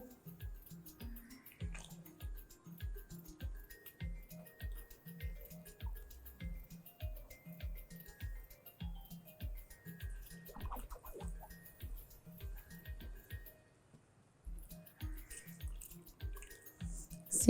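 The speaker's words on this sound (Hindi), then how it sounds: "ये फुल्कियों का पानी निकालना बहुत अलग सा इसमें सेटिस्फेक्शन मिलती है" Soaked gram flour dumplings (phulkiyan) are squeezed to drain their water. Close, rhythmic wet squishes and drips repeat at a steady pace, with a short pause near the end.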